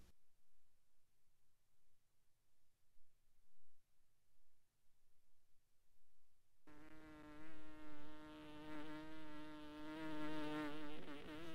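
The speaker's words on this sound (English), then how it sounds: "buzzing around without a care, always just a step ahead of the fly swatter" After several seconds of near silence, a housefly suddenly buzzes loudly and steadily close by, a droning hum that wavers slightly as it moves around.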